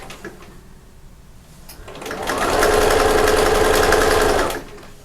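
A domestic sewing machine runs a quarter-inch seam allowance, its steady motor whir starting after a quiet lead-in, holding a loud even rhythm for about two seconds, then stopping.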